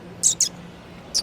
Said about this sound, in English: that bird is dive bombing us